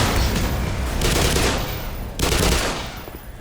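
M4A1 rifle fire in the game Black Mesa: dense automatic bursts crackling loud and close, with a short lull before another burst resumes.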